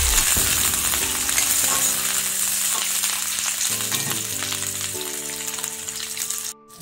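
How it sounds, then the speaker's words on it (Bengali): Chopped onion and green chili sizzle steadily in hot oil in a pan, a dense continuous frying hiss close by, with faint musical tones underneath. "তেলের মধ্যে আমি পেঁয়াজ কুচানো আর লঙ্কা কুচানো একটু ভালো করে ভেজে নেবো"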